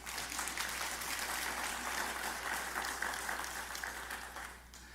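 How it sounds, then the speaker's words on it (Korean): A congregation applauds during a sermon at a Won Buddhist temple hall, dense sustained clapping from many hands that carries on steadily for several seconds before tapering slightly at the end. "동의하신다면 박수를 좀 치시기 바랍니다."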